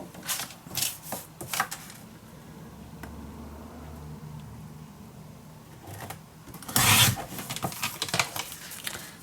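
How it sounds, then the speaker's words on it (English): Paper being cut by hand for a Stamperia Savana envelope mini album: a run of crisp scissor-like snips and rustles up close, with a louder burst of crinkling partway through. "I am going to cut this piece off"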